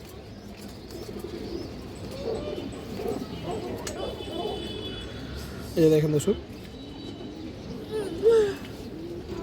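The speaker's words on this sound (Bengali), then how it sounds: "খুবই সুন্দর একটা সিলভার মাদি কবুতর দর্শক" Female silver pigeon cooing in short low bursts, with a clearer call around the middle and another near the end, over steady background bird chatter while a person talks nearby.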